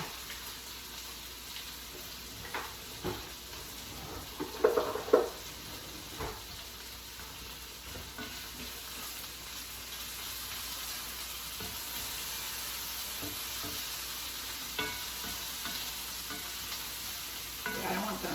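Burgers frying in a pan for a quick supper, a soft steady sizzle running throughout with a few louder clatters and stirring knocks near the start and no talking.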